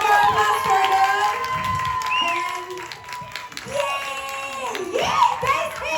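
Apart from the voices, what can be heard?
audience applause and cheering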